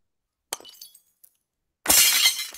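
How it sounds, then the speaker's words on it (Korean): A synthetic glass-breaking effect: a brief tinkling clink first, then a loud bright shatter of a drinking glass that sprays into crackling shards and holds to the end, with no voices. "이 유리잔이 깨지는 소리를 이렇게 생성을 한번 해보시면"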